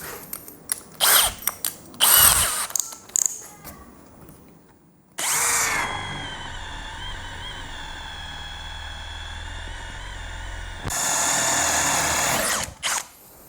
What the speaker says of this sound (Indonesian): kita coba naik yang ke 22, mata bor kipas masih sama. Speednya speed nomor 2.